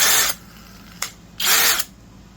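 A Vevor two-speed brushless 3/8-inch right angle drill with an all-metal ratcheting chuck whirs in two loud bursts, a short run and then a longer one, with a brief blip between them and no talk.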